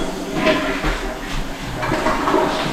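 A toilet flushes in a house under remodel, a close, steady rushing of water lasting a few seconds.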